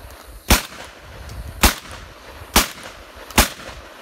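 Four loud, sharp gunshots at shooting practice, spaced roughly a second apart, each with a short echoing tail outdoors.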